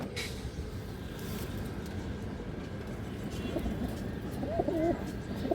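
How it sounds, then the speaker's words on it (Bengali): A female pigeon coos in a brief, soft burst near the end, heard over steady broadband background noise on a pigeon farm. "এই দেখেন মাদি কৌতর"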